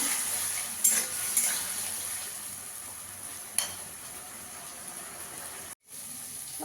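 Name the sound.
ginger and green chili paste sautéing in oil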